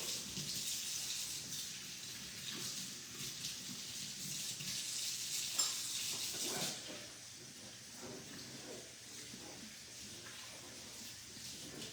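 Tap water running into a kitchen sink during cleaning, a steady faint splashing hiss that stops abruptly partway, leaving quieter trickles and dripping.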